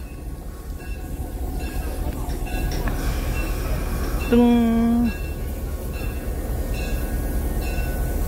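At the Changhua roundhouse, where the DT668 steam locomotive is coupled to the S318 diesel shunter, a short steady horn or whistle blast of about a second sounds over a constant rumbling yard din, with voices heard nearby.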